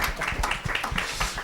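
An audience at a panel discussion on youth and politics in Kenya claps for the panelists, a brief, quick patter of hand claps from a modest crowd at moderate volume.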